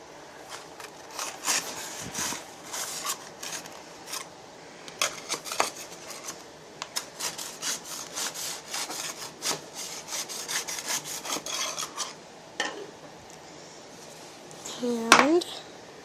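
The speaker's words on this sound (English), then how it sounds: "we're going to cut around the sides." A knife scrapes around the sides of a baked banana bread in its pan, steady close rasping strokes in a quick repeated rhythm, followed by a sharp clunk near the end.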